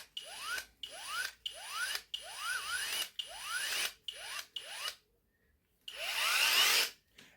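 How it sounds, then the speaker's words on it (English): A hand drill with a fine blade grinds wood while carving a totem pole. It runs in about eight quick, rising whirring bursts with short pauses between them, close and fairly quiet. A brief silence comes before a final louder, steady burst. "for the really fine work, what you can do is you can put this into a hand drill"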